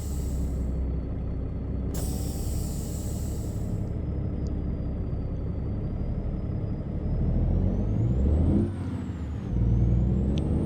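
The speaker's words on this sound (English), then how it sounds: "This truck doesn't have the power to go up this hill." A heavy truck in American Truck Simulator labors up a hill with its engine straining in a steady low drone, a sharp air-brake hiss near the start and a rising whine as the load swells.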